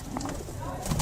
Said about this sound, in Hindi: और ये कबूतर है ये वाला